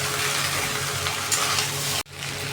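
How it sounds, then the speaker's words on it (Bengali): Potatoes and spices sauté in a pan for Bengali-style dum aloo, giving a loud, steady, close sizzle. The sizzle breaks off for an instant near the end and then carries on. "এগুলো দিয়ে আমি ভালো করে আবার এটাকে কষে নেব।"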